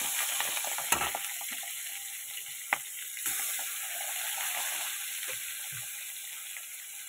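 Fish fried crisp in a wok, giving a steady close sizzle throughout with occasional sharp clicks and taps of a spatula against the pan, and no talking.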